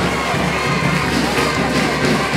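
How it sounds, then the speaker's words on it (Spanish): Dense, steady applause from a large crowd at a town festival celebration, with cheering and shouts mixed in throughout. "Ese aplauso que se escuche fuerte en estos momentos"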